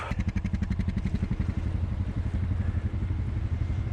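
Honda Rubicon ATV engine running low and steady with a pulsing, chugging rhythm, fairly close and continuous throughout with no talking, from a small utility quad that lacks power.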